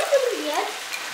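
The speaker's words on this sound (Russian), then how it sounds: "Капусту жарим, которую ты любишь." Cabbage sizzles and crackles as it fries in a pan, a steady close hiss with brief stirring scrapes, lasting only about a second.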